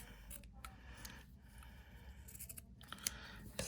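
Scissors snip through a sock being cut in half for a craft sock bunny, giving faint, quiet cutting sounds with a few sharper clicks near the end and no voice.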